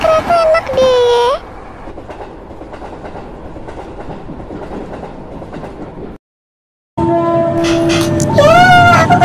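Inside a moving train, a steady rumble and rhythmic clatter of wheels fill the space, with loud voices and tonal horn-like sounds at the start and end.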